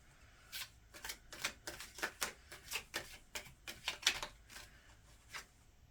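Tarot cards being shuffled in a quick run of crisp, papery riffles and slaps, about a dozen bursts over several seconds, close by and fairly quiet, with no talking.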